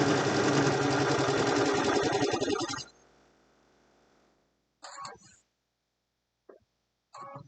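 A sewing machine or serger stitches a pillowcase in a loud, fast, close whir for about three seconds, then stops, leaving quiet handling noises and a couple of brief clicks and rustles.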